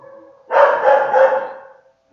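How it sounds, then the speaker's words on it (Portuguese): Frida the dog lets out three quick, loud barks in a row, close by, then falls silent. "Nossa, a Frida vai latir."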